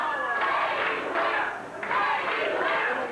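A Memphis wrestling crowd in 1986 shouts and chants in a hall, rising in bursts with short dips between them, loud and roomy, with scattered thumps from the ring.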